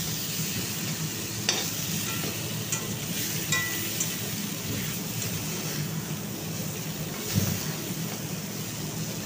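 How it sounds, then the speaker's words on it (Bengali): Spiced pointed gourd fries in oil in a covered pan, a continuous crackling sizzle at moderate volume with a few sharp clicks and a low thump near the end; nobody speaks. "দিয়ে এটাকে আমি ঢেকে মিনিট 2 সময় ধরে পটলটাকে ভালো করে ভেজে নেব।"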